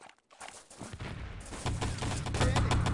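Dense, continuous gunfire in the Enemy Territory video game, a rapid rattling of many overlapping shots that builds in loudness over a few seconds during a competitive match.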